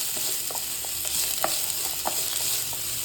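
Fresh peas and beans sauté in a pan for a rava vegetable idli, giving a steady sizzle with soft scraping and stirring knocks at irregular intervals.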